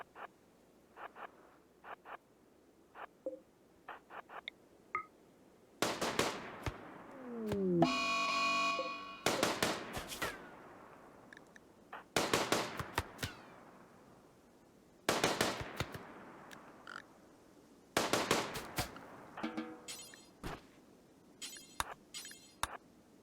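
RimWorld gunfire rings out as colonists shoot at animals such as an emu: bursts of sharp in-game shots in several separate volleys, with quieter single pops between them and a brief tonal alert partway through.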